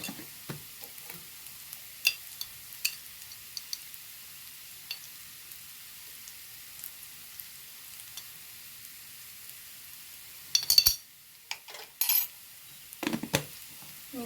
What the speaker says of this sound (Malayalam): നല്ലോണം ഇളക്കി കൊടുക്കുക ഇതാ ഉള്ളി നല്ലോണം വാടിക്കുന്നത്